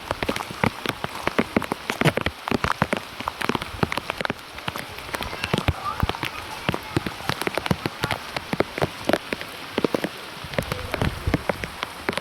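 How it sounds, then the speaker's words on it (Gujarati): Heavy rain pours down in Ramgadh, with dense, rapid drops drumming close on a hard surface in a constant irregular patter throughout. "બગડાટી બોલાવી દીધી છે વરસાદે."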